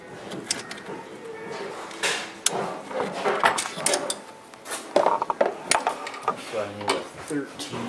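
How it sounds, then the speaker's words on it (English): A 13mm open end wrench tightening the back bolt of a Skinz AXYS Pro front bumper, heard as close metallic clinks, scrapes and short taps in irregular bursts, with a person talking now and then. "we're using a 13mm open end wrench to tighten up that back bolt."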